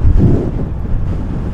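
Strong coastal wind on the seaside pass road at Cà Ná, Ninh Thuận buffets the microphone in loud low gusts, heaviest at the start and then settling into a steady rumble, with no talking.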